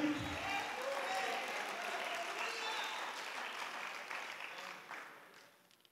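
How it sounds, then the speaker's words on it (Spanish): Applause from a church congregation during a Spanish-language worship service, a broad wash of clapping and crowd noise that fades gradually toward the end, with voices mixed in. "Den un aplauso al Señor Jesucristo"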